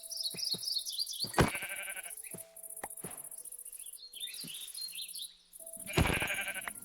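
Several sheep bleat in the Minecraft video game, a few short nasal bleats spaced across the clip, clear and fairly close, mixed with small chirping bird calls.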